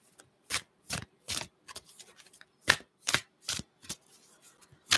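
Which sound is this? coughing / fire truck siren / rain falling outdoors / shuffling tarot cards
shuffling tarot cards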